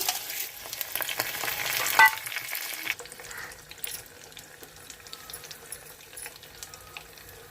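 Hot oil hisses and sizzles loudly as cumin and mustard seeds go in, the crackle easing to a softer, steady frying with scattered pops.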